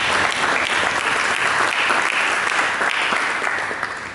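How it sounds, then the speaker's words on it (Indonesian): A church congregation claps together during a sermon, loud, full applause that holds steady and eases slightly toward the end, with no speech over it. "Berikan tepuk tangan."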